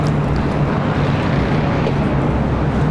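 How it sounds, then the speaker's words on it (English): Jet engine noise from a JetBlue Airbus A321neo arriving at LAX from JFK, a loud, steady broadband roar with no talking. "arrival is JetBlue Airways Flight 523 coming up from JFK and the A321neo"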